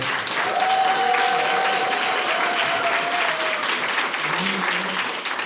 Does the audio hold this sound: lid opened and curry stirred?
no